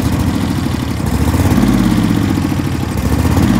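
A lawn mower engine runs loud and steady at full throttle, a close continuous rough drone with slight wavering in pitch.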